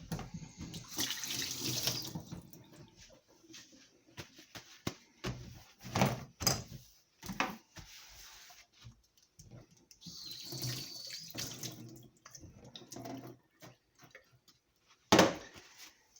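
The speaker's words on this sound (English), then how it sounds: "I'm just going to wash my hands." Hands washed under a running kitchen tap while making homemade juice, bursts of splashing water start and stop irregularly, with a few clunks and knocks and a sharp bang near the end, moderately close.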